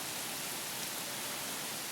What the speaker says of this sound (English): the weather isn't agreeing with us, so rain and wind seems to be the norm